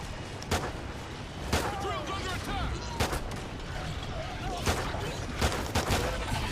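Repeated gunfire in the video game Call of Duty: Ghosts, short sharp shots spaced about a second apart over a dense, noisy battle backdrop with faint voices.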